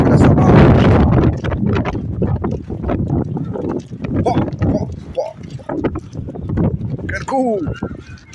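Strong wind buffets the microphone on a seaside beach in Oran, Algeria, a loud continuous rumble that runs throughout under close conversation.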